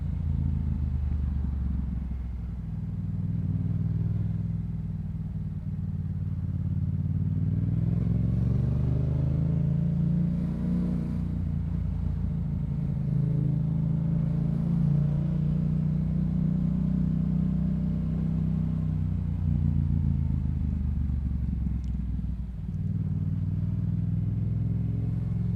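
A Yamaha MT-07 motorcycle rides through heavy commuter traffic, its engine a steady low rumble with wind noise and swells of passing vehicles, rising and dipping as the bike accelerates.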